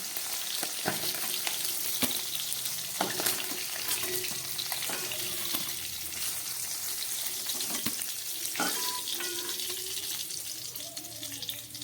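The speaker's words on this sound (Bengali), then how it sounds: "মাছগুলো ভাজা হয়ে গেছে এবার আমি তুলে ফেলছি" Fried folui fish is lifted out of sizzling oil, a dense steady crackle up close, punctuated by several sharp clicks and knocks of a utensil against the pan.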